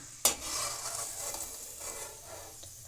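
Chakli frying in very hot oil gives a bright, crackling sizzle that opens with a sharp clatter as pieces are lifted out, then settles into a steady hiss with light utensil scrapes.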